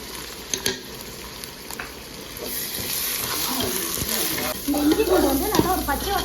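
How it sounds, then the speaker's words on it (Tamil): Ginger garlic paste sautéing in a pan for prawn biryani, a continuous moderate sizzle with scraping stirs building toward the end, a voice faintly talking underneath near the close. "பச்சை வாசனை போகிற வரைக்கும் ஒரு 5 நிமிஷம் மட்டும் வதக்கணும்"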